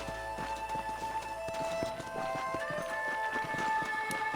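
Horses' hooves clip-clop steadily in the Red Dead Redemption video game, an even walking rhythm of several horses close by, with a faint whinny and light ambient game music underneath and no talk.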